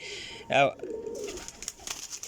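A pigeon gives one short, clear coo, close and fairly loud, in a pigeon keeper's loft. A voice talks around it, and faint rustling and light clatter follow.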